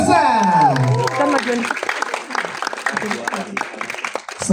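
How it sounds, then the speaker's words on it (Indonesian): Audience clapping at a film press conference as cast members are introduced, a loud amplified voice carrying over the start before the applause continues at a moderate level. "Berikan tepuk tangan untuk Hana Malasa."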